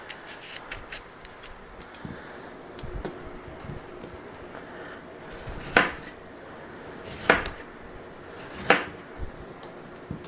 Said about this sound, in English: I'm just going to cut the sections off here.